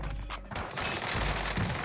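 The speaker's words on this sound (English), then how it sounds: "Why are they shooting my body like that" Sustained automatic gunfire in Warzone on Rebirth Island pours in as a dense, loud volley with no pause, nearly drowning everything else.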